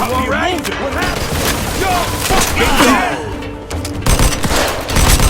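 Gunfire in Mafia II, dense bursts of shots and booms packed together under shouting voices, loud and close throughout.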